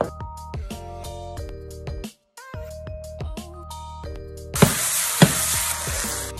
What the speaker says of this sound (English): Now let's go saute the zucchini and the onion.